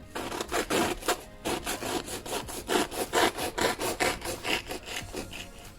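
A knife saws back and forth through a soft, potato-dough bomboloni doughnut filled with meat curry, a steady run of close, scratchy rasping strokes with no talk.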